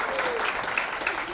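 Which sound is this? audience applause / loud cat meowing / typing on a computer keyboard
audience applause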